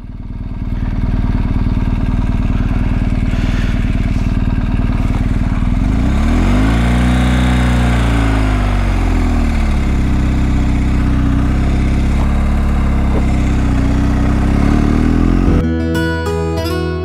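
A motorcycle rides along the Irish coast near Roundstone, its engine droning loud and steady throughout, pitch sweeping up and down as it accelerates and eases off, ending with a brief change at the close.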